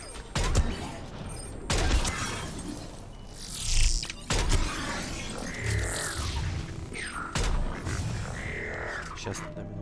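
Gunfire in Mass Effect 3 crackles in repeated loud bursts and volleys, with booming impacts and mechanical clatter between them.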